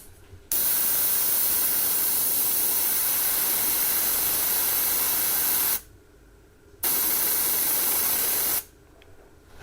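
An airbrush blows a steady, loud hiss of air over a model kit part, in two long bursts separated by a short pause.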